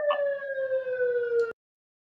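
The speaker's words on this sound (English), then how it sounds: "Third siren, three in a row." A single siren wail sounds outside, a steady, fairly close tone that slowly falls in pitch for about a second and a half before cutting off abruptly into silence.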